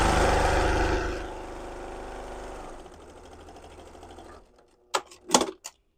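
A sewing machine stitching a quilted tote bag with flex foam, a loud steady mechanical whir that slows and fades, then stops before a few short sharp clicks and clunks near the end.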